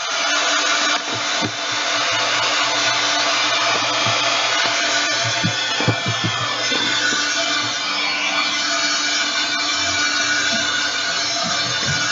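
A handheld heat tool blows steadily and loudly, drying paste on product packaging, a constant close airy roar lasting throughout with small bumps and handling noises underneath.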